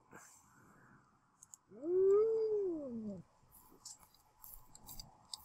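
Sled dogs in a snowy survival video game let out a single drawn-out whine lasting about a second and a half. It rises and then falls, and plays alone over a quiet ambient background.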